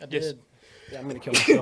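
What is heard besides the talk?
sneeze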